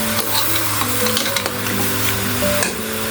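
Onion and black pepper sautéing in a pan for a pork nilaga, a dense loud sizzle with continuous stirring and scraping throughout, close up, along with faint steady tonal hum in the background.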